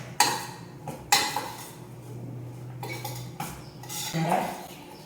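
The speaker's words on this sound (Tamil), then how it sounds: "இப்போ இதை வந்து நல்லா கலக்கி விட்டுக்கிறேன்." Salted mango pickle curry being stirred in a metal pot, with loud spoon clanks against the rim and a steady scraping between them, close up and without talk.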